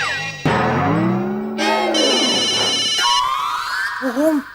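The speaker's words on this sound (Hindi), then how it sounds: "फोन बज रहा है, फोन उठाइए।" A mobile phone rings in a household comedy scene, playing a loud melodic ringtone of shifting electronic tones that change pattern several times, with no speech over it.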